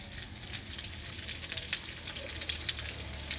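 Chili peppers dropped into sizzling kaldereta fry with a steady, close crackling sizzle and scattered sharp pops and spits from the hot oil, heard alone without talking.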